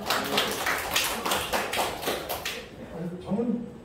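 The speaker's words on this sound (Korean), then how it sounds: "박수 주세요." Classroom applause, a dense patter of many hands clapping that fades out after a few seconds, with a voice speaking briefly as it ends.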